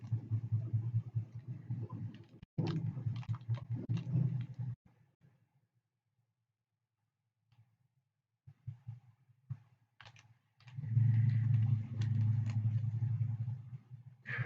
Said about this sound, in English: And there goes somebody in their big truck